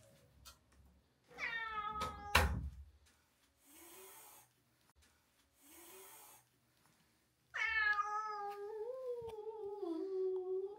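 A cat meows loudly twice, long drawn-out cries with a gap between, alongside soft snuffling breaths and a brief thump.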